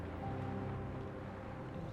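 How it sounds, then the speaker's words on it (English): Ocean waves lapping at Itsukushima Shrine on Miyajima, Japan, a steady low wash of water with some wind rumble, continuous and even with no voices. "You can hear the waves, you can feel that tranquility."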